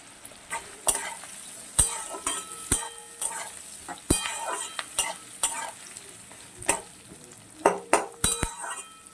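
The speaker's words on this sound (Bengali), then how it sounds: "পেঁয়াজটা একটু ভেজে নেব" Diced onions sizzle in hot oil with cinnamon, cardamom and cloves while a spatula stirs them, producing a steady fry broken by repeated sharp scrapes and clinks against the pan, close up and without speech.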